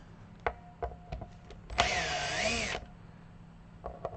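Power drill spins on a guitar in one short whirring burst of about a second, rising and falling in pitch, between scattered faint clicks and taps of handling.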